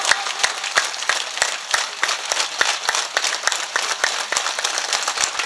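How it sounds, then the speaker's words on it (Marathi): A crowd at a Marathi kirtan claps together in a steady rhythmic beat, many sharp hand claps repeating evenly and loudly close by, with no talking over them. "सर्वांनी मोठ्या प्रेमानं जोरात फक्त एक टाळी वाजवायची माझ्यासोबत."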